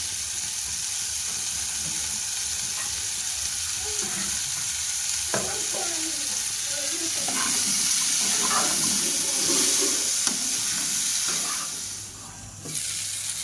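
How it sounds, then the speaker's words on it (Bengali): Cauliflower florets frying with a little salt in a pan for a cauliflower-shrimp curry, a steady broadband sizzle with scattered stirring scrapes and clatters through the middle, fading near the end. "একটু অল্প করে লবণ দিয়ে আমি এটা একটু ভেজে নেবো লাল লাল করে"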